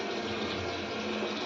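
Water poured from a tap or vessel into a cooking pot on a gas stove, ready for boiling corn kernels; a steady, even splashing rush that stays close and constant throughout, with no voices.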